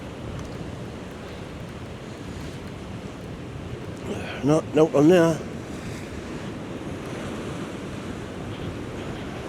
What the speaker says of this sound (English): There's a little bit wind there.